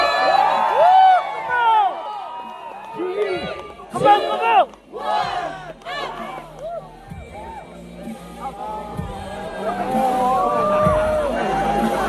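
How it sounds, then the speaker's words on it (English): A crowd cheers and shouts loudly at a Naga King Chilli (ghost pepper) eating competition at the Hornbill Festival 2019, with excited whoops rising and falling throughout and a voice calling out over the noise. "People cheering"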